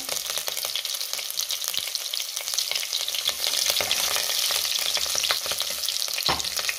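Spice paste and green chillies fry and get stirred in a hot pan for khichadi, a steady close sizzle with scraping stir strokes throughout and no talking.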